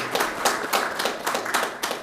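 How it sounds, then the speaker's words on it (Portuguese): An audience claps for a law professor being introduced at a religious liberty conference in Lisbon, a steady patter of hand claps rising and falling in small bursts, moderately loud and close, with no voices over it. "Uma salva de palmas para ele, por favor."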